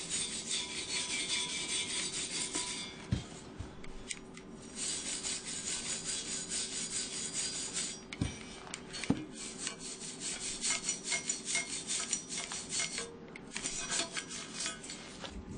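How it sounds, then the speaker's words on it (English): Cleaning weld joints on the metal of a golf cart trailer hitch before painting, a continuous close scraping and rubbing rasp with a few sharp metallic knocks, steady throughout and with no talk. "Now we got to clean off where the weld joints are so that we can get ready to paint."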